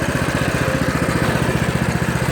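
A Coleman mini bike's small engine idles steadily while sitting still, a close, loud, even putter with a fast regular pulse and no revving.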